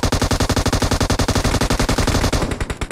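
Rapid automatic gunfire in the mobile game PUBG Mobile, a loud, steady stream of close shots in quick rhythm that continues for most of the moment before tapering off near the end.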